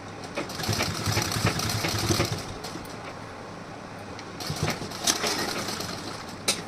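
A sewing machine stitches piping on a blouse, a steady close mechanical whir with soft rhythmic ticking that runs continuously, briefly easing around the middle before picking up again.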